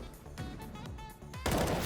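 Gunfire in the game CS:GO, a few sharp shots early on, then a louder, dense burst of firing in the last half second, close and without talk.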